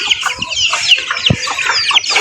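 Chickens kept at a home cluck and squawk close by in a busy, overlapping jumble of short calls, loud and continuous with no talking.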